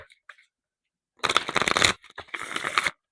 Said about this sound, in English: Now I gotta shuffle again.